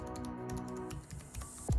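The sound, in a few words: typing on Alienware X17 R2 laptop mechanical keyboard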